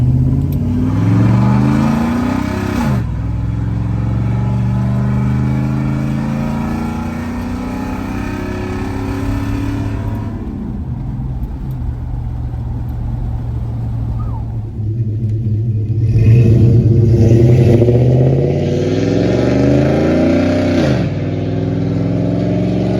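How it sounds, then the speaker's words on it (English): A GMC Sierra pickup accelerates hard with its exhaust cutout valve opened, loud rising engine roar climbing through several gear pulls, dropping between shifts, then swelling again louder and rawer near the end. "I'm gonna do an acceleration and open the exhaust valve during the acceleration."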